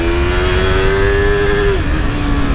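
A new motorcycle revs hard as it is ridden, its engine note climbing in a steady rising whine and then dropping off near the end, loud, close and continuous with no talking.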